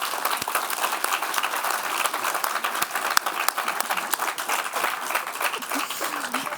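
Audience applause for Denver mayoral runoff candidates at a forum, a dense steady clapping from a sizable crowd lasting several seconds.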